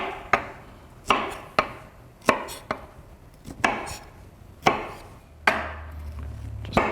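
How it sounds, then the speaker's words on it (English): A knife trimming roasted corn kernels off the cob, a regular series of sharp, close chopping knocks on a board, each followed by a short scraping tail, roughly one stroke per second. "And now I'll just go ahead and trim the kernels right off the cob."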